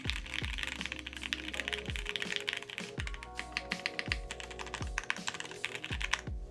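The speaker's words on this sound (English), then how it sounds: "let's do an actual typing test" Rapid clacky keystrokes on a Tiger 80 mechanical keyboard with ABS and aluminium parts, close up and steady, with heavier thocks from the spacebar or larger keys punctuating the typing.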